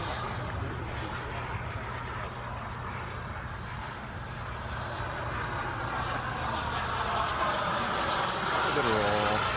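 Jet aircraft landing and rolling out on the runway, a steady broad engine roar throughout, growing slightly louder toward the end as a tonal whine rises, with voices talking underneath.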